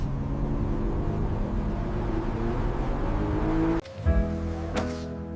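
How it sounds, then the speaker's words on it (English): A car engine hums steadily as it drives, pitch climbing slightly, then a sharp cut and a couple of brief mechanical clunks near the end. "We test drive the car, feeling every improvement come to life."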